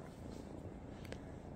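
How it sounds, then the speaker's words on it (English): A soft, low rumbling purr from a cat, close and continuous but quiet, with faint rustling. "And they come up purring."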